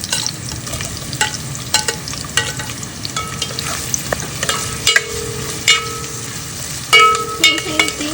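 Garlic and onion sauté in a pan for tinola, a steady crackling sizzle with repeated scraping stirs and a few clinks of the utensil against the pan, close and fairly loud, no voices.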